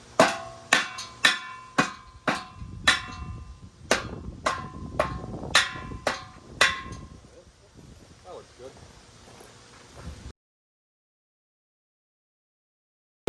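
Sharp metallic taps from a mallet knocking a steel carport tube into place outdoors, about a dozen irregular hits ringing briefly over rustling wind before stopping, with someone talking quietly in between.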